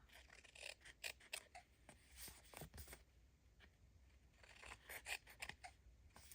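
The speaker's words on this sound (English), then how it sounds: "Just trying to trim off all the little excess." Scissors snip away excess paper in a quiet craft setting, a string of faint, crisp cuts in irregular rhythm heard up close with no talking.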